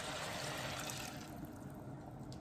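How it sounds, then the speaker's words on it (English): Water poured into an Instant Pot for vegetarian bean soup, a soft steady splashing pour that fades partway through, faint and close with no talking. "I will add just water."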